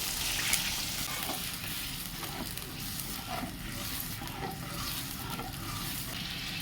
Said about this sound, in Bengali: তেল গরম হয়ে গেছে দিয়ে দেবো আদা রসুন পেঁয়াজ বাটাটা দেবো